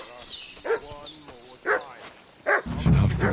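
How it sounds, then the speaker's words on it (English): Several sharp, yelping barks from a dog in Kingdom Come Deliverance 2, spaced at irregular intervals and fairly close, with a voice talking between and over them. "What's that dog making such a fuss about?"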